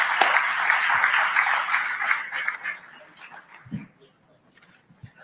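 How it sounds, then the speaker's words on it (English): Audience applause at a stage session of an election-special news conclave, a dense, loud wash of clapping that tapers off after about three seconds, leaving a few soft thumps and near-quiet. "Can we have a warm round of applause, please?"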